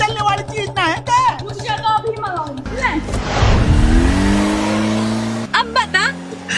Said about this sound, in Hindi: आज तो गाड़ी में हवा में उड़ रही है।